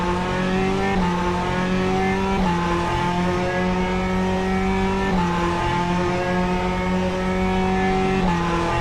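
On-board hypercar engine in a sim racing game at Road America, a loud steady drone climbing in pitch between several distinct gear shifts, heard close with no voices.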